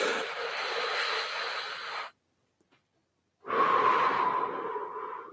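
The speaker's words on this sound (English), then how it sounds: "Focus on the breathing now. As you breathe in," A long, slow breath followed by a pause of near silence, then a second steady breath, airy and close, with no talking.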